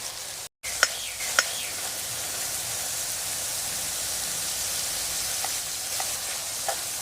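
Kaleji (liver) frying on a hot tawa gives a steady, close sizzle that fills the whole stretch, with a brief dropout near the start and a few sharp clicks of stirring spatula.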